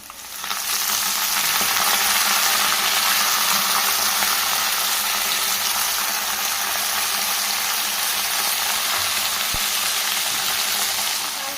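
Spinach and amaranth leaves frying in a pan, a steady loud sizzle with faint stirring, continuous and close, with no talking.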